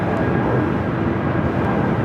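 An airplane takes off from runway 24 left at LAX, producing a loud, steady broadband jet roar that fills the short stretch without any pause.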